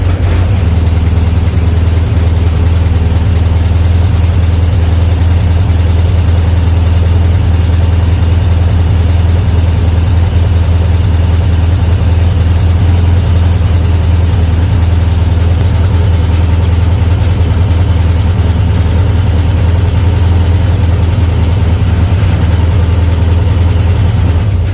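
A rat rod with an unusual engine swap idles loudly and steadily at close range, a deep, constant engine rumble that continues without any break for the whole stretch.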